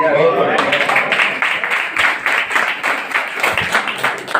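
Loud, sustained clapping from an audience at a Hindi-language DXN talk, dense and continuous across several seconds with close rhythmic hand claps, a voice briefly audible at the start.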